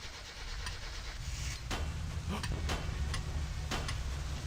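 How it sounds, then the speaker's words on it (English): A car engine in the My Summer Car video game, running with a banging knock from a misaligned camshaft gear: a low rumbling idle punctuated by irregular sharp clanks, fairly quiet overall. "the car was making this horrific banging sound, but it ran"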